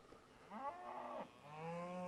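A cow gives a faint, distant moo, followed by a longer drawn-out lowing call, outdoors with soft background noise.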